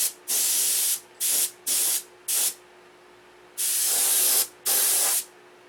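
An airbrush sprays paint onto a model in six sharp hissing bursts of varying length, loud and close, with brief quiet gaps between.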